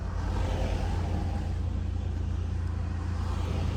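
A car passes close by on the road, its steady engine rumble and tyre noise filling the short stretch without a break.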